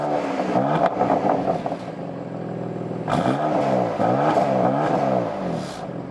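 A 2020 BMW M2 Competition engine cranks and fires up, then revs in rising and falling surges, loud and close, with a rough idle between bursts and no talking.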